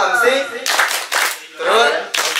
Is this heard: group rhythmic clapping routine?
yes